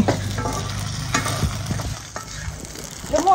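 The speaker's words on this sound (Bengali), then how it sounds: "এখন ফুচকা ভাজা হচ্ছে।" Fuchka shells fry in hot oil with a close, bubbling sizzle and scraping stir strokes, steady throughout and ending with a brief clink.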